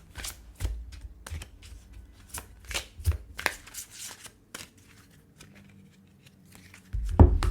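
Playing cards are shuffled for a card reading, with a run of sharp riffling bursts and softer slides spaced irregularly, close and fairly quiet, ending in a louder thump.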